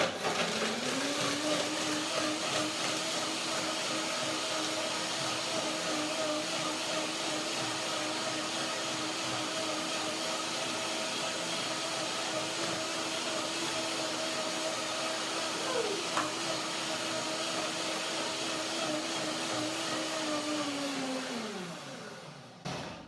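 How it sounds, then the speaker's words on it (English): A blender whirs at a steady high-pitched motor drone for a long stretch while blending hazelnuts and apple, then winds down and stops at the end. "The first blending is a short blending to break down the ingredients"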